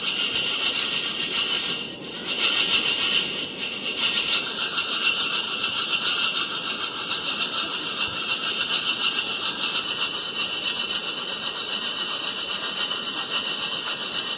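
Coffee beans shaken and tumbled in a pan over a flame at a campsite, a continuous close, loud rattling hiss with steady rhythm and no voice.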